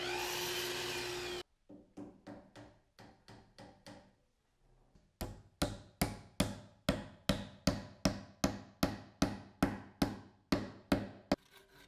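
Wooden wedges are hammered into a live edge slab coffee table joint: a long run of sharp, evenly spaced blows, close and loud, with a few lighter taps before them.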